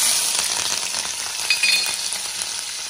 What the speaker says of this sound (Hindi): ये देखो अब मैं डाल रही हूँ मिर्च,